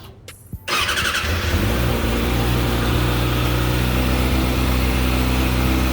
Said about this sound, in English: The bike starts right up.